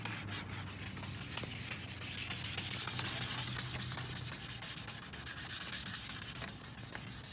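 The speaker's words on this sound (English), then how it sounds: "2000 grit sandpaper." Wet sanding of a car headlight with 2000 grit sandpaper: a steady, close, gritty rubbing that continues without a break, with quick back-and-forth strokes and no talking.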